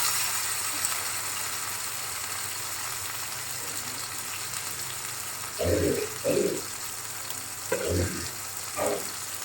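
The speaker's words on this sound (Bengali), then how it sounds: "বাকিগুলো ভাজা হোক ভাজা হয়ে গেছে আমার এগুলো ভাজাই করছি" Malai chicken chaap pieces frying in a pan with a steady loud hiss of oil, broken later by several bursts of stirring and scraping close by.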